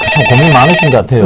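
A telephone ringtone on a Korean radio call-in show about the stock market, a short tonal ring sounding beneath a person speaking.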